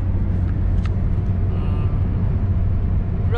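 A car driven through a wildlife corridor in Pench Tiger Reserve, heard from inside as a loud, steady engine drone and road rumble that runs throughout.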